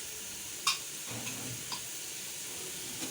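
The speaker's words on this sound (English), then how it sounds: "And then you stir." A spoon stirs curry powder and stock cubes in a pot, soft and faint, with a sharp tick against the pot near the start and a few light scrapes over a low background hiss.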